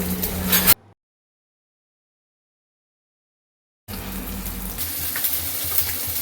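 Fish frying in a pan gives a dense hiss, cut off by a few seconds of complete silence before the sizzle returns, steady and close.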